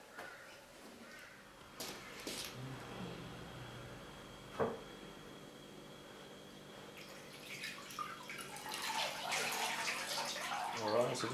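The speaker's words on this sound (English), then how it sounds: "we'll let the crown soak just by placing it back in water" An old slouch hat's crown is placed in a bucket of water to soak: faint sloshing and dripping, a brief splash midway, then louder running, splashing water at the end, with voices present at times.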